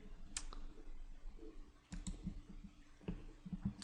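Sharp computer mouse clicks at a desk, a couple of crisp isolated clicks followed by several quicker ones, fairly close and quiet with no talking.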